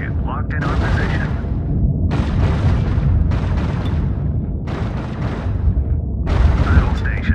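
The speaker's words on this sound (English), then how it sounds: "Auto turret is firing up." Auto turret weapons firing in the sci-fi space game Infinite Lagrange, a dense rumbling barrage of booming shots in repeated bursts over a constant low roar, with a voice speaking over it.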